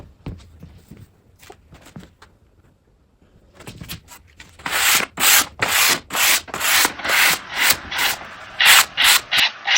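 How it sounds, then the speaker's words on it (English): Wooden dresser drawers being hand sanded at 45-degree angles, with a few quiet scrapes that give way to fast, rhythmic rasping strokes, loud and close, each stroke a bright gritty swish. "So the reason I'm sanding in 45-degree angles"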